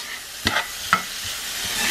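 Rice is stirred into a frying pan with chicken and chicken masala powder, giving a soft sizzle under two distinct scraping stirs close by and no talking.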